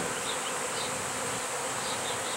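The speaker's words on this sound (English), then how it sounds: "Sometimes you get them bigger than this." A large swarm of honey bees drones in a steady, dense buzz that fills the air at close range, with no talking.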